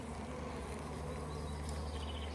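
Honey bees buzz at a busy hive, bringing in nectar and capping it, as a steady, dense drone that fills the whole stretch with no voices.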